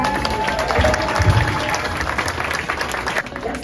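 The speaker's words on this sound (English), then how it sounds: "Let's give these fourth graders a round of applause," Applause from a school audience for fourth grade students during morning announcements, a steady, fairly close wash of clapping and crowd noise with no speech over it.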